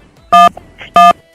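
Two loud, identical electronic telephone beeps, evenly spaced about half a second apart, signalling a disconnected call.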